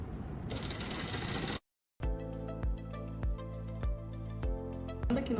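A sewing machine stitches around the V neckline of a tank top, running in a steady mechanical rhythm of evenly spaced clacks after a brief pause, close and clear.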